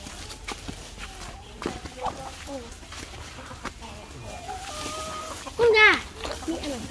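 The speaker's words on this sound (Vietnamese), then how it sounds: "Gà ra bắt không? Bắt gà vào." Chickens cluck in an open field with short clucks scattered through the clip and a louder burst of squawking near the end, mixed with footsteps and people talking nearby.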